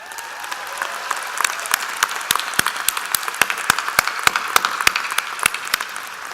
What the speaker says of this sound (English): I'm going to ask each one to stand up and take the applause and then sit down.